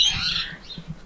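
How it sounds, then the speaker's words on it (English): A ringneck parrot in a backyard aviary lets out a loud, harsh squawk up close, a single raspy call fading within about half a second, followed by faint rustling. "This is a ringneck,"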